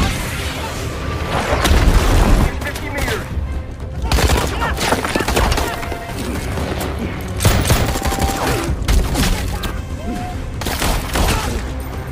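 A film gunfight in a Philippine jungle, with dense bursts of gunfire and booming shots crackling loud and close in irregular volleys, broken by brief lulls and overlapping with some speech.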